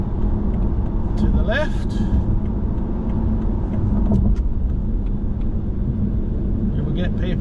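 Car cruising on the Gateway Freeway near the Gateway Bridge, a steady loud engine and tyre rumble from inside the cabin, with a few short spoken words and occasional clicks over it.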